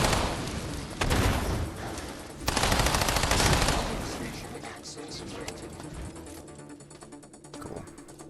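Video game gunfire crackles in dense bursts, with heavier volleys near the start and middle that thin into scattered shots, a voice talking over the noise.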